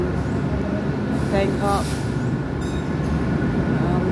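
Steady rumble of an overnight sleeper train in Thailand departing Bangkok, a continuous rolling drone with faint metallic squeaks, heard under someone talking close by.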